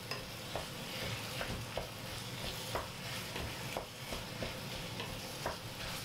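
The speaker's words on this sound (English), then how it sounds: "Now cooking this meat in here for a bit before I add the chopped tomatoes." Minced meat seasoned with Italian herbs cooks in a pan, giving a steady sizzle with regular soft clicks and scrapes, like a utensil stirring it, at moderate volume and without voices.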